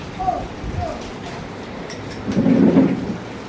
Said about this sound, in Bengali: আর বৃষ্টি শুরু।